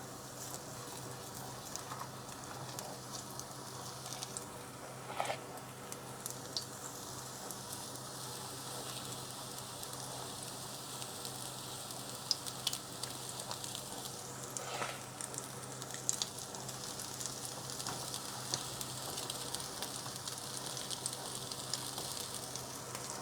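Spoonfuls of pancake batter cook in a freshly greased pan, giving a soft, steady sizzle and crackle that carries on evenly for a long stretch, fairly faint and with no talk.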